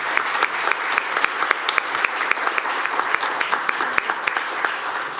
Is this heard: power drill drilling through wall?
no